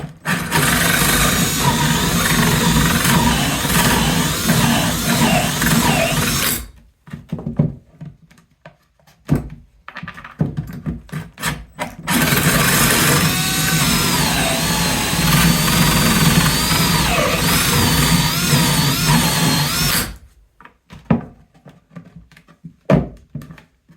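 Hole saw whirring as its edge reams a hole in a plastic bucket lid slightly wider, in two sustained bursts of several seconds each separated by a pause with scattered knocks and handling thumps.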